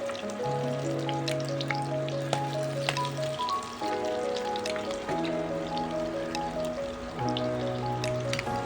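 Chicken pakora fries in oil with a soft, continuous crackle and light popping under steady background music.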